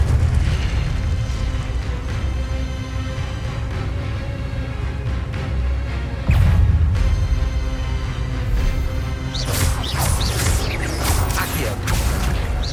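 Incendio fire spell cast in Hogwarts Legacy, a rumbling, crackling burst of flame amid continuous game sound effects, with a sharper flare of crackles near the end.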